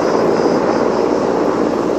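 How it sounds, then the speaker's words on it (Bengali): Firefighting helicopter carrying water to put out a forest fire in the Sundarbans, heard as a steady, loud, broadband engine roar that holds without a break. "যে হেলিকপ্টার দ্বারা পানি এনে সুন্দরবনের যে আগুন নিয়ন্ত্রণ করা হচ্ছে সেটিরই।"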